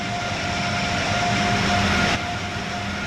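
A locomotive in Train Sim World 3 runs steadily with a loud, continuous rumble and a sustained tonal whine, alone without talk, the sound dropping slightly near the end.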